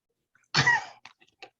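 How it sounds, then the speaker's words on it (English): A single sharp sneeze bursts out close by, followed by a couple of faint breathy sounds. "excuse me, I have to sneeze."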